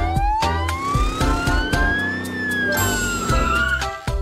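A wailing ambulance siren in a Roblox video game sweeps up and down over low rhythmic thumps, loud and close, with a synthetic, game-like quality and no talking.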